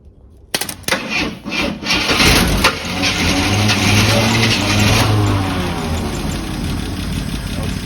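An AMC Gremlin engine, sitting for 32 years, cranks with a few uneven turns, catches with a loud burst, and keeps running roughly, while people talk over it.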